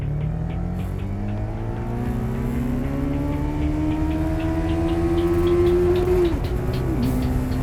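A Yamaha FZR motorcycle engine pulls hard through a long acceleration, its rising whine climbing steadily and loud before easing off near the end, with a steady engine roar throughout and no talk.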